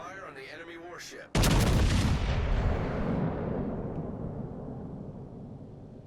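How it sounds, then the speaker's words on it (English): A single huge battleship artillery salvo in World of Warships Legends erupts after brief radio voice chatter, then a long rolling rumble slowly fades over several seconds. "Concentrate fire on the enemy warship."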